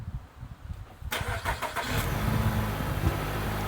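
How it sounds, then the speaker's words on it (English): A Nissan Altima's engine starts by remote start: after quiet rustling, a sharp crank catches and settles into a steady, close idle that holds loud to the end. "And here we go, the car has started."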